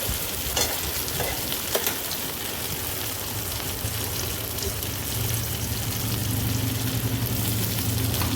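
Chopped tomatoes fry in a pan for a Bengali katla fish head curry, producing a steady, close sizzle with light stirring and scraping throughout, no voices.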